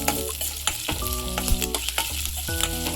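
Tempering for homemade ottu shavige sizzles steadily in a hot pan, a close, continuous frying crackle with brief stirring scrapes and no voices.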